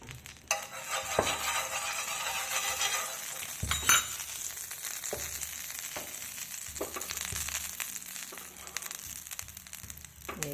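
Oil sizzling and frying as it is spread across an iron dosa tawa, a steady crackling hiss with a few sharp scraping clicks and light metallic knocks, close and moderately loud.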